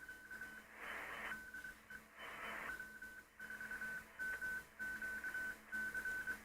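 Morse code keys on and off as a thin, steady tone over the hiss of a 40-meter amateur radio band, with rhythmic dots and dashes broken by brief bursts of static.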